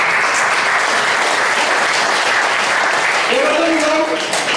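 An audience claps in steady, dense applause throughout at a church gathering, loud and close, with a voice briefly rising over it near the end.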